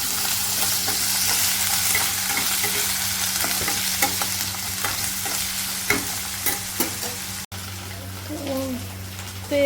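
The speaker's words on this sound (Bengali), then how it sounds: "আলুটা ভেজে নিচ্ছি।" Potatoes fry in a wok with a steady, close crackling sizzle, broken by light clicks and scrapes of stirring throughout.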